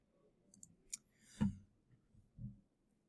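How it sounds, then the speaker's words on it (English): A computer mouse is clicked while working in a game editor's scene view, giving a few faint, close, sharp clicks spread unevenly over a quiet background with no talk. "we need to double click this scene to open it up"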